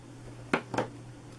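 Scissors snip twice through ribbon ends while trimming a tied bow on a Mother's Day chocolate gift box, two short crisp cuts close by in a quiet room.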